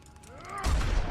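Gunfire erupts in The Wolf Among Us, a dense burst of loud blasts that follows a thin, rising whine and rings out close and heavy to the end.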